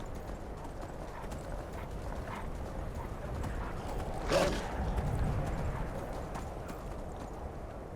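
Horse hooves clip-clopping in the video game Skyrim, a steady run of hoofbeats under a bed of ambient game sound, with a brief louder snort or whinny near the middle.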